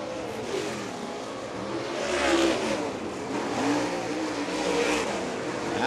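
Race cars roar around a dirt oval track at Fairbury, engines revving and rising and falling as a pack sweeps past at a moderate distance.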